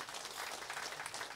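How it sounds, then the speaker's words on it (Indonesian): Applause from a crowd at a ceremony installing a village king in Amahusu, a dense steady patter of many hands clapping together for the full short stretch, fairly even in loudness with no talk over it. "Tepuk tangan buat Ibu."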